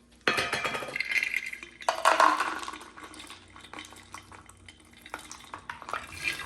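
Cashews poured into a bowl of snack mix, a rattling cascade of nuts hitting the bowl and each other, with a couple of louder bursts and trailing clinks, close up and without talk.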